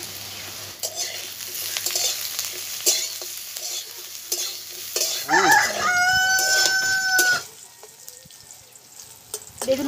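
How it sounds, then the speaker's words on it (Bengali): Eggplant pieces sizzle steadily in white oil in a wok, stirred now and then with scraping clinks; a rooster crows loudly nearby partway through, then the frying continues more quietly. "বেগুনগুলোকে ভেজে নেব।"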